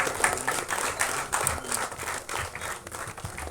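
Audience applause at a film directors' club song screening event as a cinematographer is called to the stage, steady dense clapping at moderate volume throughout, unbroken by speech.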